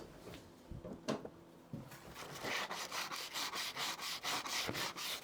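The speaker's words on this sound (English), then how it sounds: "I think I want some little sandpaper. Do it by hand, I think." Hand sanding with sandpaper while relocating a VHF radio on a Ranger Tug boat: a few scattered scuffs, then a fast, even run of close rasping back-and-forth strokes.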